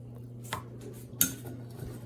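A metal spoon clinks against a pot as spoonfuls are added while making a barley-sugar lollipop, giving two or three quick, close, sharp taps over a faint hum.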